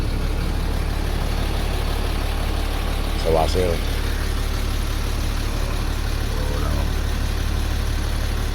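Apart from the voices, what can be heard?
engine running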